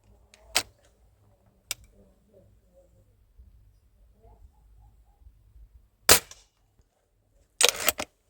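Sharp shots from an old pellet rifle, a loud crack early, a smaller one, then a louder pair near the end, separated by quiet gaps with faint low background.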